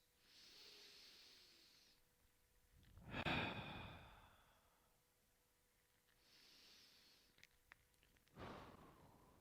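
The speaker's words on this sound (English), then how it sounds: "Take 3 deep breaths." Slow deep breaths in a calm morning mobility routine: soft airy inhales followed by two heavier sighing exhales, close and quiet, with no talk.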